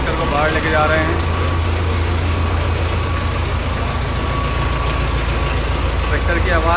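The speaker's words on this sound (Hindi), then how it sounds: "ट्रैक्टर की आवाज़ बहुत प्यारी है।" A new Mahindra Novo 605 DI tractor idles steadily and loudly nearby, its diesel engine giving a constant low rumble throughout, with faint voices in the background.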